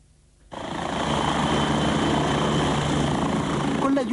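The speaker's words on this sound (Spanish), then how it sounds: "Con la ayuda de un helicóptero de la Armada, junto a Fernando Ramírez y a Mauricio Folch" A Navy helicopter flying, its engine and rotor roar rising abruptly after a brief quiet start and holding loud and steady throughout.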